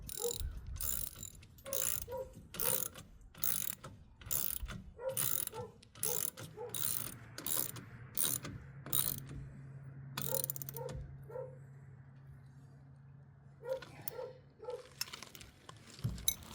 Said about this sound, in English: we're just going to snug them down nice and tight.